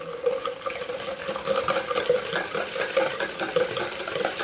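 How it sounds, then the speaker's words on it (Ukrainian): Rapid, steady scraping and tapping of a whisk beating a kefir batter with mayonnaise in a bowl, continuous and close, with no talking. "Трошки розоб'ю його такинчиком."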